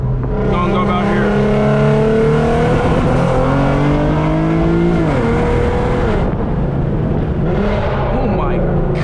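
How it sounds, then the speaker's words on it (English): A tuned Infiniti Q50 in sport mode accelerates hard with rolling anti-lag, its engine roaring loud and close through rising gear pulls and crackling, popping bursts from the exhaust, with a voice talking over it. "give y'all a little rolling anti-lag real quick on the sport mode"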